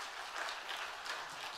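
A church congregation applauds after a Bible verse recitation, a soft, steady wash of clapping heard at some distance, continuous and fairly faint.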